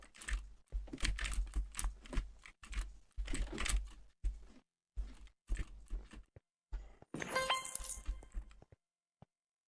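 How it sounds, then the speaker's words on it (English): A computer keyboard clacks in bursts of rapid typing, its spacebar and keys pressed in irregular clusters with short pauses, fairly close and dry, ending with a brighter clattering flurry and a few isolated taps. "the sound of the keyboard comes back"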